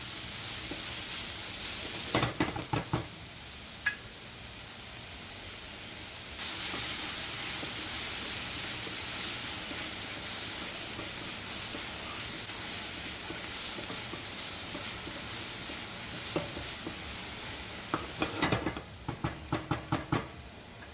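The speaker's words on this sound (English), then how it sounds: "I'm gonna add my diced onion. Okay. We stir that up. I'm gonna go ahead and brown that up" Diced onion sizzling in a hot pot for a crab boil, a continuous steamy frying hiss with bursts of spoon knocks and scraping as it is stirred, heard near and alone.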